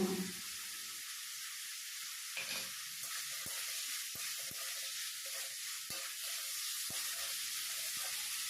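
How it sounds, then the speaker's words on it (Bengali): Vegetables with spices frying in a pan for a bitter gourd dish, a steady close sizzle with a few sharp stirring clicks and scrapes throughout and no voices. "মশলার সঙ্গে সবজি খুব ভালোভাবে আমি ভেজে নিয়েছি"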